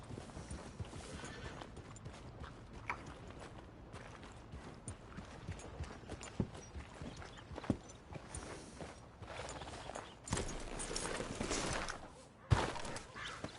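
Horse hooves clip-clop at a steady walking rhythm in a video game, mixed with creaking tack and game ambience, fairly close, with a louder rush of motion near the end.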